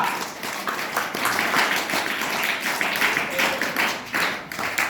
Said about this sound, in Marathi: ह्या आपल्या झाशीच्या राणी यांच्यासाठी पण टाळ्या होऊ द्या एकदा।